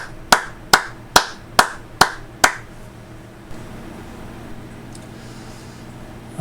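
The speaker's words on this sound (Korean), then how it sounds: "하나님께 영광의 박수 올려드립니다." A church congregation claps together in unison six times at a steady, evenly spaced rhythm, each clap sharp and close, followed by quiet room tone.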